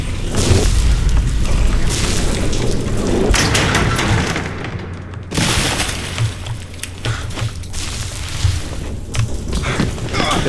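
Loud boom of a gas tank exploding in Dead Light, a heavy blast with crashing, shattering debris, then rumbling and further thuds under continuing game noise.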